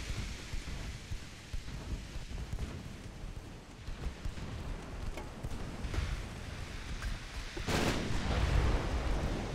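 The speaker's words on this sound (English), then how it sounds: "So we'll target the battleship with our mains and target the destroyers with our secondaries." Warship main guns fire in the naval battle game Ultimate Admiral Dreadnoughts, heard as low, rumbling booms and a continuous thundering roll, with a louder blast near the end.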